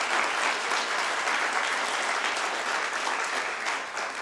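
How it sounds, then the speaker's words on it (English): An office crowd welcomes new employees with steady, dense applause at a mayor's news conference, loud and even from start to finish with no voices over it. "So please join me in a round of applause for these new employees."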